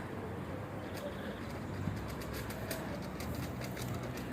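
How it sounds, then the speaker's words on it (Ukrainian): Birds, likely pigeons, in a palm- and ficus-lined park alley in a Spanish city, faint and scattered over a steady outdoor hum with some distant clatter. "Пташки поруч."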